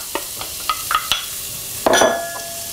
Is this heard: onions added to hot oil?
yes